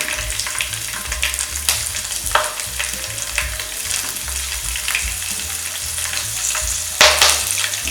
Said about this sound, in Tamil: சீரகம் பொரிஞ்சோன்னு பிரிஞ்சி இலை, கருவேப்பிலை, பச்சை மிளகாய்,